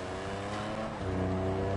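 A car engine in GTA 5 Online revs and accelerates, a steady close droning roar with rising harmonic tones and no talk over it.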